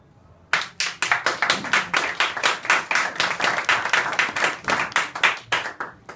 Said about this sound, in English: I don't know if you guys have to clap in between